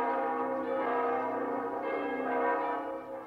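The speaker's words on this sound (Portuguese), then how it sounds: "as badaladas das 12" Church bells ring in a cartoon, a steady resonant chime with sustained overtones, fairly quiet and alone without any voices.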